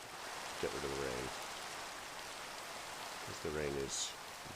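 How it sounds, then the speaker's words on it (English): Steady hiss of rain in the video game Towncraft, a soft continuous patter filling the background, with two short bursts of a voice speaking over it. "And get rid of the rain."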